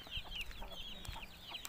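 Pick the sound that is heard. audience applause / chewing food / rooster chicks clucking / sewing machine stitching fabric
rooster chicks clucking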